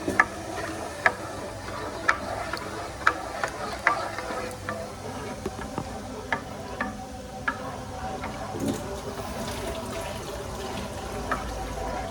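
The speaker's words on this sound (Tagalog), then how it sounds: "Walang tigil na halo. Halo lang ng halo." Gulaman mixture stirred without pause in a pot until it boils, giving regular ticking scrapes and taps of a utensil against the pot over a soft liquid swirl, close and fairly quiet with no talking.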